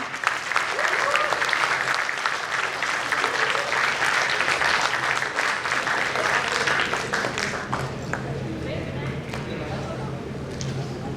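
An audience at a panel discussion on emerging technologies in the energy transition applauds the panelists, a dense, steady wash of clapping that holds loud for most of the time and thins slightly toward the end.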